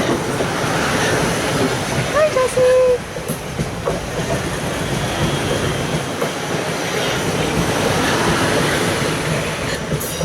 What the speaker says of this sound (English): the barriers coming down, so the train is definitely coming.